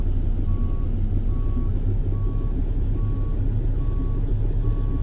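A truck reversing in Euro Truck Simulator 2, with a steady backup beeper pulsing about once per second over a continuous low engine rumble, loud and close throughout.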